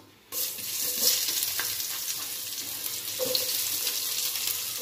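Onions and green chillies fry in a pan with whole spices such as pepper, cinnamon, cloves and cardamom, giving a steady close sizzle that starts abruptly, with occasional stirring scrapes.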